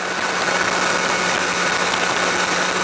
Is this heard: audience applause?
no